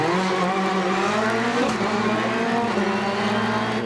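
Loeb's rally car screams toward a stage's flying finish, its engine loud and close, pitch climbing through gear changes with a brief dip midway, with no voices.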